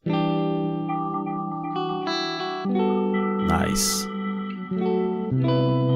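A sustained tonal sound drenched in a reverb plugin's reverb and modulation, with long washy tails and shimmering echoes, while a voice speaks briefly over it.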